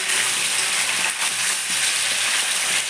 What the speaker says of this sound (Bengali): এবার যে কাটা পেঁয়াজ আর ক্যাপসিকাম কাঁচা লঙ্কা কেটে রেখেছি দিয়ে দেবো, একসঙ্গেই ভেজে নেবো